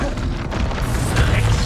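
Expulso explosion spell in the video game Hogwarts Legacy, a loud, dense booming blast that fills the moment with rumbling low end and crackling debris, close and without speech.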